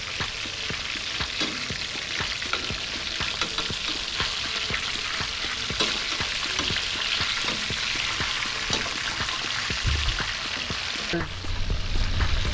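Snapper fillets fry in a pan in the Florida Keys, a dense, steady sizzle and crackle that runs loud and unbroken throughout, with a brief clatter near the end.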